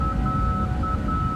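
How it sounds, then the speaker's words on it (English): Cockpit alert beeping in a Boeing 777 freighter in the X-Plane 12 flight simulator game: a steady high electronic tone over a loud low engine rumble, continuous and close. "What is that beeping?"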